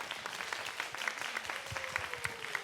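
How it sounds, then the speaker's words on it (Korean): Applause from an audience at a Korean library book-club event for teens, a dense, steady patter of clapping with sharper individual claps standing out throughout. "여러분 다시 한번 박수 부탁드리겠습니다"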